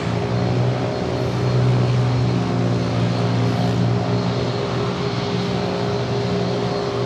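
A KLM Boeing 787 Dreamliner taxis toward runway 27 at San Diego airport, a steady droning engine hum with layered tonal whine, moderately close and unbroken, no voices over it.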